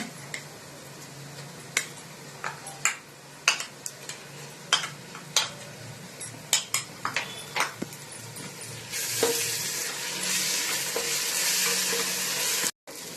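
Onion frying with ground chili, garlic and ginger paste for chicken biryani, with repeated sharp scrapes and clinks of a spoon against the pan, then a loud, steady sizzle that swells near the end and cuts off abruptly.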